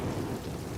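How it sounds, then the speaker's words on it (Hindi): Heavy rain pours down during a storm, a dense continuous roar with a deep low rumble like distant thunder underneath. "अरे ये बारिश तो छूटने का नाम नहीं ले रही है।"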